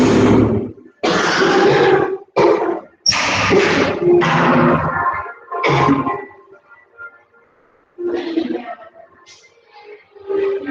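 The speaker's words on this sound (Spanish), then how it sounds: "A veces me da un cosquillero en la garganta y me da un ataque de tos." A close, harsh coughing fit in repeated bursts, several hacking coughs in a row with short pauses and throat-clearing between them.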